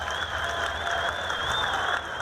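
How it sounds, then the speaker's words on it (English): A partisan home crowd at Cliff Keen Arena applauds a Big Ten college wrestling match between Michigan and Clarion, producing a steady, dense wash of clapping that fills the arena without letup. "that brings the partisan crowd here at Cliff Keen Arena to their feet"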